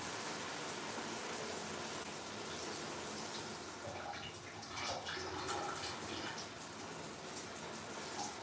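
Water sprayed onto braided microlocs to saturate them, a soft, steady hiss of spray that stays faint and continuous throughout.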